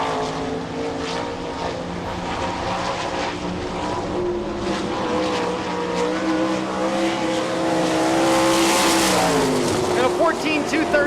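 A World of Outlaws sprint car laps a dirt track at Rossburg, Ohio, its engine a loud, continuous roar that rises and falls through the corners and swells near the end as it passes close by.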